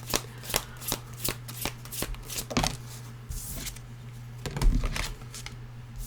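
A deck of tarot cards is shuffled and cut in a quiet room, giving a rapid run of crisp riffling flicks and snaps followed by a few softer slides and taps, close and clear.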